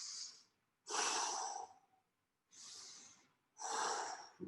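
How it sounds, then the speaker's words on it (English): Four heavy breaths alternate between inhaling and exhaling during a weightlifting workout with overhead presses. Each breath is close, loud and airy, and short silences separate them. "Inhale, exhale up. That's it. Good. Steady motion, steady breathing."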